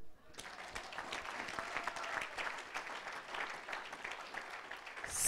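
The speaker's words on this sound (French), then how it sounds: "Acclame-le." A church congregation breaks into sustained applause that starts abruptly and carries on steadily, a dense wash of clapping filling the room, with some voices mixed faintly underneath.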